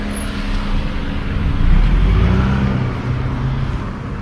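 A car on a city road in Tajikistan being overtaken, heard as a steady broadband road and engine rumble that swells in the middle and eases off, with no talking.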